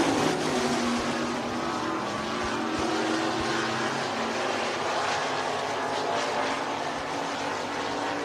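Stock cars lap Hancock County Speedway in a steady, droning roar of engines that holds for the whole stretch, sounding somewhat distant with no clear pass-bys.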